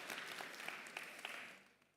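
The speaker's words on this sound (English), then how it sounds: "Big applause." A conference audience at a startup event applauds, a soft, distant wash of clapping with a few sharper individual claps standing out, fading slightly at the end.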